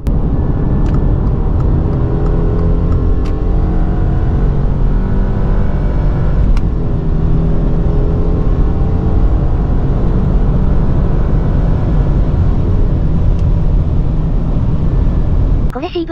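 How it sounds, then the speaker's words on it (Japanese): Subaru Crosstrek with a CVT accelerating hard along a straight stretch of the Shuto Expressway, heard from inside the cabin as a steady, loud engine and road roar that holds through the whole run with no talking. "ここら辺の直線で、安全そうなら踏んでみましょうか。"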